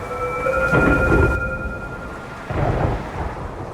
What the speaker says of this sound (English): The storm raged.